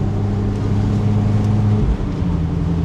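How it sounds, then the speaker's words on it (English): Mazda Miata engine fitted with a RoadsterSport exhaust and a Helmholtz resonator, a steady low droning rumble at near-constant revs with a brief dip in the middle, close and continuous without talk. "It's a good sounding engine. RoadsterSport exhaust, and I think he has a Helmholtz resonator on it, and it sounds very good."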